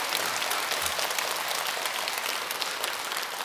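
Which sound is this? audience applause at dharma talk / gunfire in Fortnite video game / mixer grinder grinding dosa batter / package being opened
audience applause at dharma talk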